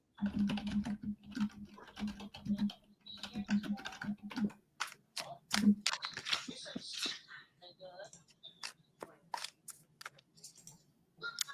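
Quick typing on a computer keyboard: dense bursts of clicking keystrokes that run through the whole stretch while people talk over them.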